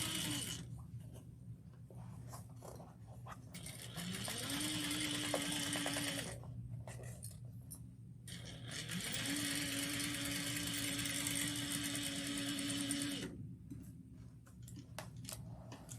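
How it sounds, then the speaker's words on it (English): Sewing machine running in two long, steady stitching passes for a 3/8-inch seam with back stitching, its motor whirring close and loud between brief pauses. "sewing 3/8 of an inch back stitch"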